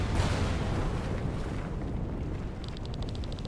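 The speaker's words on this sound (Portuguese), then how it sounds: "um ataque. Explosões." Explosions rumble through an attack sequence in the video game Chained Echoes: a sustained, dense low roar with continuous booming energy, loud and steady, with a faint high-pitched pulsing tone emerging near the end.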